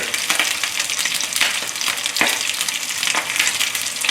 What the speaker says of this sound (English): I let the beef brown a little bit before I give them a quick stir.